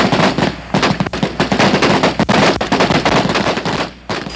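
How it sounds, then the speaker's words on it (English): Sustained automatic gunfire from Army Ranger desert training in 1984, loud, rapid bursts of rifle and machine-gun fire running almost continuously with brief gaps, with no voices. "we're gonna fire up all the remaining ammo"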